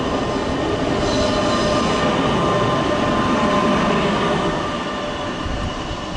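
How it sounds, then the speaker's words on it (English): A Regio train pulls into Köln Hbf with a loud, continuous rolling rumble and high wheel squeal, close by and fading slightly as it slows, with no voices. "looks like a Regio train coming in here."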